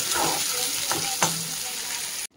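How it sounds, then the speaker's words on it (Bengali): Onions fry in a kadai with cumin, chilli and bay leaf as a continuous hiss, broken by a couple of sharp spatula scrapes, before the sound cuts off abruptly. "পেঁয়াজটা দিয়ে ভালো করে একটু পেঁয়াজটাকে লাল করে নিচ্ছি।"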